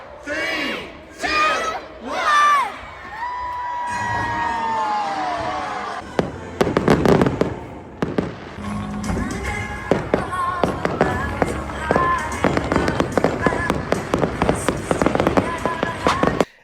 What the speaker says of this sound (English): watch the fireworks show in the Christmas time